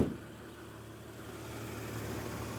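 A clean 2021 Porsche Macan S sits idling very quietly, a steady low engine hum close by with a faint, even drone and no other sounds.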